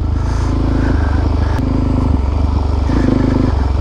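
A supermoto motorcycle on supermoto tires rides through dirt ruts, its engine droning loud and steady up close, with slight rises and falls in pitch as it bumps along.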